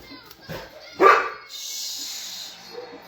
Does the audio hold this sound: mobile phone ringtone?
no